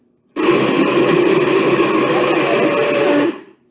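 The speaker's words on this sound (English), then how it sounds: "so Jackson, push the pulse button." A loud blender pulsing a fruit smoothie whirs steadily for about three seconds, grinding and churning close by, then cuts off and winds down.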